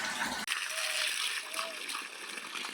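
Water gushes and splashes out steadily from a motor-driven pump switched on to water bean plants in a village field, a continuous close rush with a brief dropout near the start.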